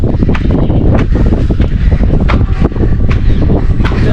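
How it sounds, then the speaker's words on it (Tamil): Strong wind blows steadily across the microphone at the top of Ambuluwawa tower, a loud, continuous roar with gusty buffeting throughout. "காற்று அடிக்கிறது தான் பயத்தை உண்டாகுது."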